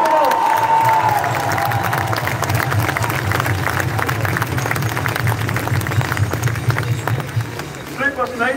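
A large protest crowd in Dublin over mica and pyrite redress cheers and applauds in a continuous, dense roar of clapping and shouting, loud and sustained throughout, with voices mixed in.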